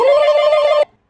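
A telephone gives a single loud electronic ring, a steady buzzing tone lasting under a second before it cuts off sharply into silence.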